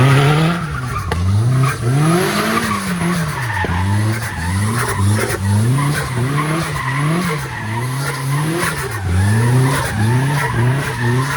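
A Nissan 240SX drifting on a street, its tires squealing in long wavering howls with the engine revving up and down steadily beneath, loud and sustained without voices.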